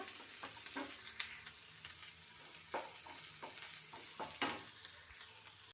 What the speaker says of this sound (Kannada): ಎಣ್ಣೆ ಬಿಸಿಯಾಗಿದೆ ಇದಕ್ಕೆ ನಾನೀಗ ಆನಿಯನ್ ಹಾಕ್ತಾ ಇದ್ದೀನಿ